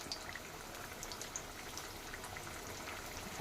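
Small potatoes fry in a pan for a potato wedge style aloo fry, giving a faint, steady sizzle scattered with tiny crackles and pops.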